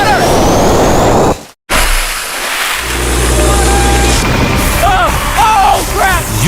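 Water gushes from a newly built village well in Kenya in a loud, rushing torrent that cuts out briefly, then surges again while excited voices call out over it.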